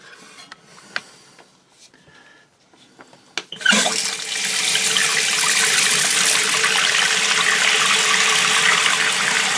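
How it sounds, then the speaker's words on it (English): Water from a newly opened supply line gushes into an old toilet fitted with a Fluidmaster valve and new rubber stopper: quiet small knocks, then a loud, steady rushing fill begins partway through and holds. "let's turn on the water and see what happens"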